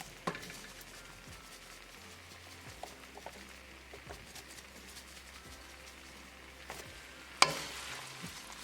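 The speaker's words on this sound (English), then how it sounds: "Add parmesan cheese and mix it" Shrimp and gemelli pasta in marinara sauce with parmesan is mixed in a pan over medium heat, a soft continuous sizzle with scattered light scrapes and taps of the utensil, ending in a sharper clack near the close.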